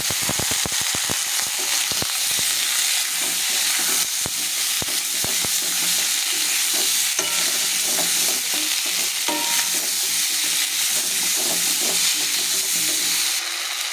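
Potatoes dropped into spices already frying in oil, a loud continuous sizzle with scraping stirs and clacks of a spoon against the pan, close up and without talk.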